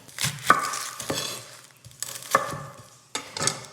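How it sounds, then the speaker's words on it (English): A knife chops an onion on a board for chicken katsu curry, giving a handful of separate close thuds spaced about a second apart with quiet gaps between them and no speech. "We're gonna start by chopping up an onion"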